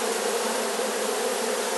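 A cluster of honeybees from a swarm, being smoked into a hive, makes a loud, dense, unbroken buzz that holds steady and close throughout.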